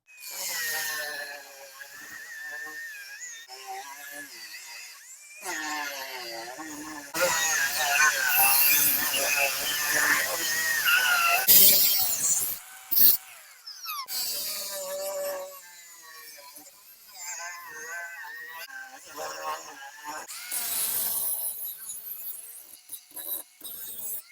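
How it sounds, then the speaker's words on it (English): A power tool cuts through the sheet metal base of a racing seat being fitted to a lawnmower, whining and grinding in several loud passes with pauses, while a person talks between cuts. "we're going to cut both sides so we can use less sheet metal from the base"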